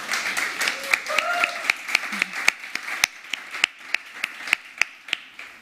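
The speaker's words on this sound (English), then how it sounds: "Where's the applause? It's Spain." Scattered audience clapping at a startup summit stage after Spain is welcomed into a network, a few people giving sharp, distinct claps in an uneven rhythm, with some talk early on.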